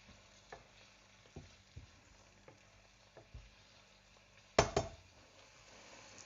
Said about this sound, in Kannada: ಸೊ ಟೊಮೆಟೊ ಇವಾಗ ಸ್ವಲ್ಪ ಚೆನ್ನಾಗಿ ಬೇಯಬೇಕು